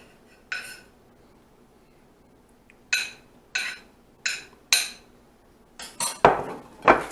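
A spoon scoops cooked rice into a dish for veggie enchiladas, making a series of sharp, close clinks and taps against the dish, spaced out at first and then bunched together near the end.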